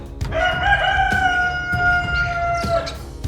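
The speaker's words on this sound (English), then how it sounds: "if you heard that rooster crow" A rooster crows once in the video game Minecraft, a single loud, drawn-out cock-a-doodle-doo heard close and clear with no talking over it.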